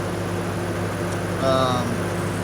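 A Lexus IS F sits idling at just under 1,000 RPM, a steady low engine hum running throughout with a brief brighter whine rising over it midway.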